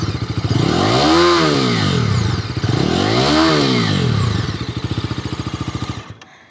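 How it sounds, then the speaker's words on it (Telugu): Bajaj Dominar 250 motorcycle revving close by, its exhaust note rising and falling in two long throttle sweeps, then dropping to a pulsing idle before cutting off near the end. "ఇది ఎగ్జాస్ట్ నోట్."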